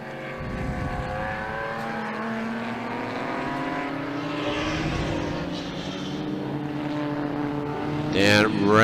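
Racing cars, including an open-top Datsun, roar steadily through a sweeping bend at Winton Festival of Speed, engine notes rising and shifting as they pass, with a commentator talking over the noise.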